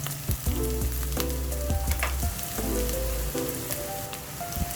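Medium white onion sautéing in a pan for pork giniling, a steady close sizzle broken by scraping and clanking stir strokes, with no voices.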